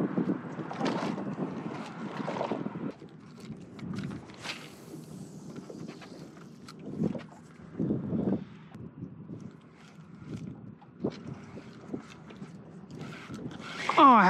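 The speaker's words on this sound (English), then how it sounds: "That wind is picked up." Wind buffets a microphone on a small fishing boat drifting in a Galveston canal, a steady rumbling gust with intermittent bumps and knocks throughout.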